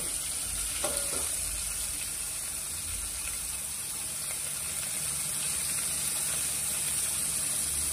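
Chopped onion frying in a pan for tomato saar, a continuous moderate sizzle with a few low scrapes of stirring early on and no voices.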